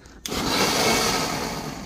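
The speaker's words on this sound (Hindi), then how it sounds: "चला गाईज मिक्सर लाई देनात लाईन वर" A Indian electric mixer grinder switches on abruptly and whirs loudly while blending mango juice. It sends out a steady, dense motor roar and churning up close, with no talk.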